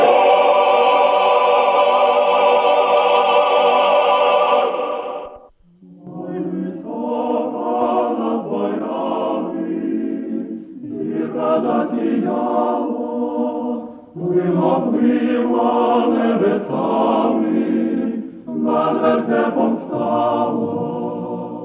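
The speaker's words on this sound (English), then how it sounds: "What you hear is the all-male choir of the Kievo-Pechery Lavra." The all-male Orthodox choir of the Kyiv Pechersk Lavra sings a hymn, low voices together in slow, sustained chant-like phrases with brief pauses between lines, resonant and full.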